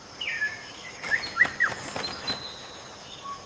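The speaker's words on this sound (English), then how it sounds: "The toucan's call rings out across the forest, a resonant reminder of the Amazon's diverse inhabitants." In the Amazon rainforest, a toucan gives a few short chirping calls clustered mid-stretch, moderately close, against quiet forest background with a faint steady insect-like hiss.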